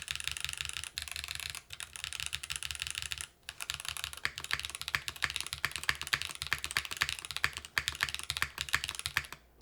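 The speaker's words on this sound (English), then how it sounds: "This keyboard sounded good with foam." Rapid typing clatters on a Yunzii mechanical keyboard with no internal foam, a dense run of close, crisp key clacks with brief pauses and no voices.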